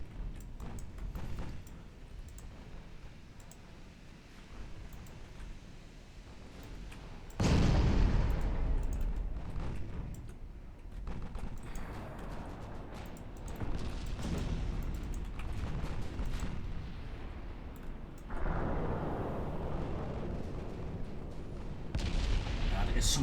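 Naval gunfire in Ultimate Admiral Dreadnoughts, a heavy cruiser and battleship engagement, rumbles as a continuous loud bombardment, with sharp swells of booming shots at several points over a steady low roar of battle.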